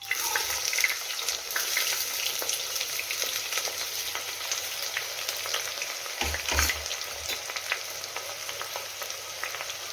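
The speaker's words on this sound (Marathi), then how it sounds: "आता टाकून घेऊया चिरून घेतलेला कांदा" Chopped onion fries in oil with bay leaf and whole spices for mutton masala, a steady crackling sizzle with occasional spatula scrapes and a brief stirring clatter, close and uninterrupted.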